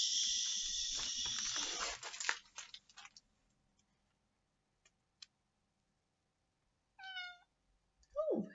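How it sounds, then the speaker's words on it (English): A cat meows a couple of times in a quiet indoor room during a bedtime story session, short clear mews near the end after a burst of rustling and long silence. "Oh, hello kitten, that's Miss Tagore, hi honey, she doesn't usually come down for story time, but she needed a little petting"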